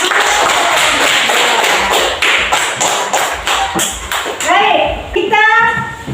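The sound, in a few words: applause for group 2's presentation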